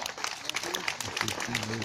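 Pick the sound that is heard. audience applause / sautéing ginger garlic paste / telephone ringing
audience applause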